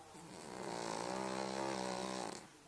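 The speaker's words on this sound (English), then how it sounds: "Dog snores." A dog snores in one long drawn-out breath that swells and fades, quiet and close, with no talk over it.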